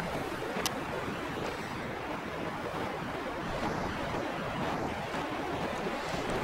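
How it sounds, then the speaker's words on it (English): Kayak paddling on choppy sea off Upernavik, Greenland, passing close by the museum; steady broadband wash of waves and wind noise fills the whole stretch, with no distinct paddle strokes standing out. "Here I am paddling just past the museum."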